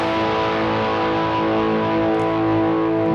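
A sus chord strummed on a capoed guitar rings out steadily, a dense, sustained, distorted wash of harmonics held for a few seconds without talk.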